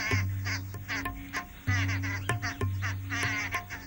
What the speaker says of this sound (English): A noisy group of babblers descends, and one strikes the owlet on the head.